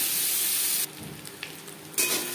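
Potatoes frying in a pan for a Pangas fish curry give a steady, bright sizzle that drops to a quieter hiss for about a second, then surges back up, with no one talking.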